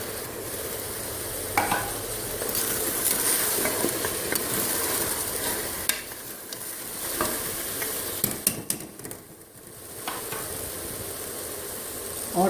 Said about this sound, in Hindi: भूनने के बाद इसमें पाए डाल दूँगी। अब मैं इसमें पाए डालने लगी।